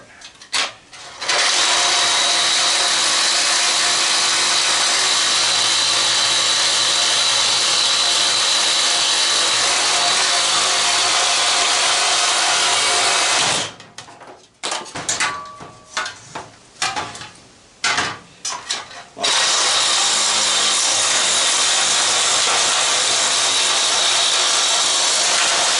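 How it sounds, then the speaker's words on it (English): Reciprocating saw cutting through the metal shaft of an old super fan, a loud, steady buzzing drone that runs unbroken for about thirteen seconds, breaks into several short stop-start bursts, then resumes continuously to the end. "get the sawzall and I'll just cut the shaft there"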